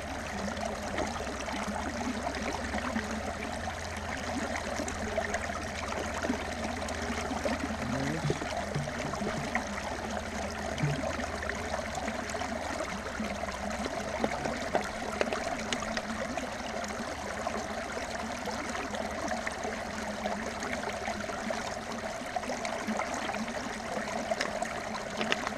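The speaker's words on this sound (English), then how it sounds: "I don't just drink from the stream." Steady broadband rush of flowing water, like a mountain stream on the Appalachian Trail running continuously nearby with no pauses or voices.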